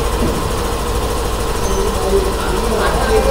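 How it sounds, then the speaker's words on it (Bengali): A new 2024 Hero motorcycle engine runs at a steady idle, a smooth low rumble with an even mechanical whirr that stays constant and close throughout. "আর গাড়ির সাউন্ডটাও শুনুন, খুব সুন্দর রয়েছে। ইঞ্জিনের সাউন্ডটাও খুব স্মুথ রয়েছে"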